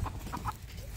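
Village free-range hens cluck in short, close bursts while someone tries to corner and catch one.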